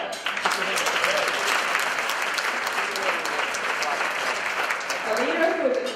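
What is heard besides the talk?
applause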